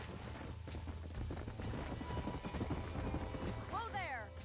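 Horses galloping in Red Dead Redemption on Nintendo Switch, a quiet rapid drumming of hooves with a voice over it and a rising call at the end.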